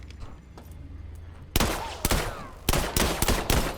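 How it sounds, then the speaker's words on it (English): A mag pulse weapon fires in the 2023 System Shock game against robots. Several sharp, loud electric blasts land in quick succession over a low hum of background ambience. "Let's bring out the mag pulse."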